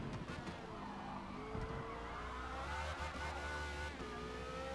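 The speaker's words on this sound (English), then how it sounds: "Bit of wheel spin, that's fine." A race car in Forza Motorsport spins its wheels coming out of a corner, engine droning steadily with rising tyre squeal and skidding tones, fairly faint and continuous.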